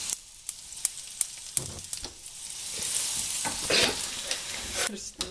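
Food frying in a small pan on a home stove, a steady sizzle with clicks and stirring scrapes building through the middle, close by and without talk.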